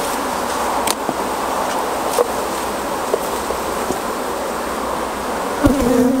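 Honey bees buzz densely around an open beehive super, a continuous close swarm hum with a few louder passes and light knocks of the hive equipment, with no voices.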